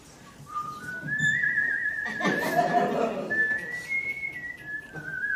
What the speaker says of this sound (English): let us embark on this trial of whistling